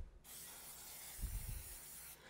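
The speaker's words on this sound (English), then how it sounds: "So I'm going to spray your hands." A canola-based nonstick spray can hisses in one steady burst of about two seconds onto a person's hands, close and fairly quiet, with no talking.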